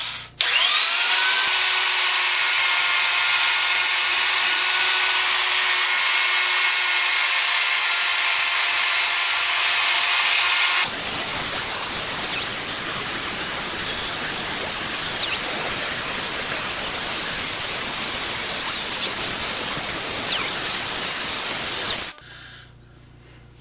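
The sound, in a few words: axe being sharpened with 24 grit abrasive wheels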